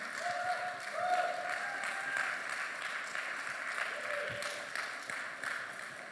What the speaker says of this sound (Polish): może to zrobimy oklaskami